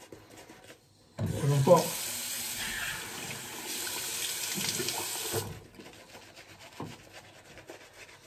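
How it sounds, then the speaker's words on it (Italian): Hot water runs from a tap into a sink during a shave, a steady hissing splash that starts abruptly, holds for about four seconds and then cuts off, close by. "l'acqua calda ancora."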